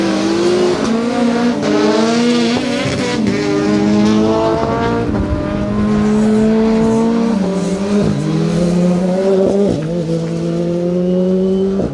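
Rally cars, a Porsche GT3 RS and a Peugeot 205, on a stage of the Colin Ellmore Memorial Rally, with loud engines revving hard and dropping through gearchanges, tyres squealing, a steady near roar throughout without talk.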